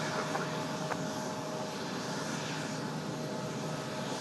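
Delta 1407 jet airliner taking off from runway 5 left at Raleigh-Durham International, a steady, loud, broad engine roar that holds constant throughout with no talking.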